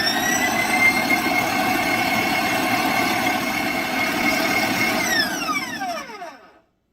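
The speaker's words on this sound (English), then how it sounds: "We will mix it again on high speed." A stand mixer runs on high speed through chocolate pizzelle batter, a steady close whirring motor drone that holds for about five seconds, then spins down and fades to silence.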